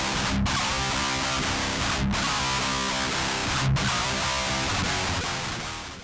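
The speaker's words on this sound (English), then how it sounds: "why won't you just plug a tube overdrive pedal into the PC? Because it will sound like this." An electric guitar runs through a tube overdrive pedal straight into a computer, giving a harsh, fizzy distorted tone that plays steadily for several seconds with a few brief dropouts and no talking.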